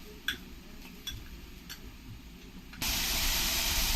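Onion paste with a ginger, cumin and coriander paste goes into hot oil in a pan for a Bhola fish curry, a soft hiss that bursts into a loud, steady sizzle, with a few light utensil clicks before it.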